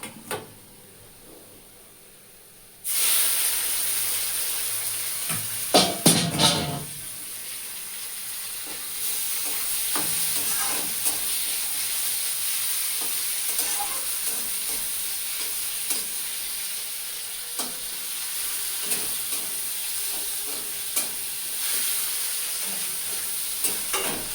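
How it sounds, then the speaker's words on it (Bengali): Prawns hit a hot pan with lightly fried ingredients and break into a loud, continuous sizzle, with clattering stirs and scrapes near the start and softer stirring later, close and without talk. "এবার আমি চিংড়ি মাছটা দিয়ে দেবো"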